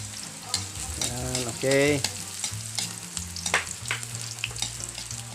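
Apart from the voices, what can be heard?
garlic sizzling while frying for escabeche sauce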